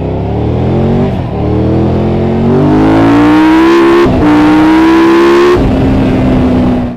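A Triumph Tiger 1200 Rally Explorer motorcycle engine revs hard and loud, close by. Its pitch climbs in repeated surges, with short dips between pulls, and no one speaks.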